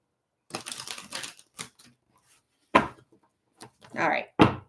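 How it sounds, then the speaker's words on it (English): Several bursts of crisp riffling card shuffles, each a quick fluttering rush separated by short pauses, close and fairly loud. "I want to do 2 more shuffles after this because it feels right in the body."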